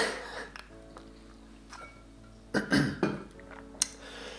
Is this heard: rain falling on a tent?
no